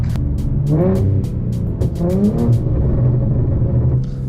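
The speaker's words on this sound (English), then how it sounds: "That burble, that's the number one thing about going full bolt on, is those burbles and that tune right there." Infiniti G37 with a full bolt-on exhaust revving repeatedly, each throttle blip rising and falling, followed by popping burbles and crackles, then settling into a loud, close rumbling idle.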